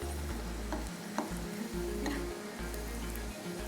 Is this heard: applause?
no